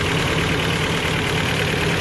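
Toyota engine idling roughly after a new timing chain and water pump, a steady close rumble with uneven low throbbing and no voices.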